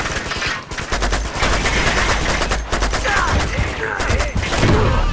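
Gunfire and explosions from the video game Uncharted 2: Among Thieves Remastered, at a train yard: dense, continuous rapid bursts of shots with heavy booms, loud throughout the stretch.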